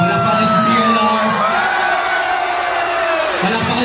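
A crowd at a live Filipino rap concert roars and cheers continuously, loud and dense, with whoops carrying over the din.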